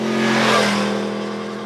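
A Yamaha motorcycle engine revs hard, tuned to imitate a MotoGP racing bike, a loud, snarling, sustained roar that eases slightly over a short burst, heard close with no talking.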